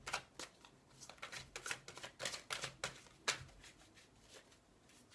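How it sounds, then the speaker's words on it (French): Tarot cards shuffled by hand, a quick irregular run of crisp riffling flutters and taps, close and fairly quiet, with no talking. "je vais quand même continuer de les brasser"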